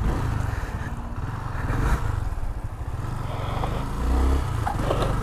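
Engine of a brand-new 2018 Twister 250 motorcycle running on a street, a steady low rumble with a slight rise in revs near the end, fairly close and continuous.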